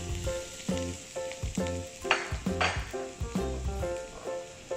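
Garlic sizzles as it fries in a little hot oil in a home pan for corned beef with potato, a steady crackling hiss under rhythmic background music.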